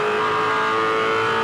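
V8 Supercar engine at Phillip Island in 2007, a loud, sustained, high-revving whine under hard acceleration, heard close and steady with no voices.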